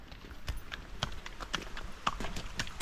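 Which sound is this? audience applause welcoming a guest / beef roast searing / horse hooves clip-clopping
horse hooves clip-clopping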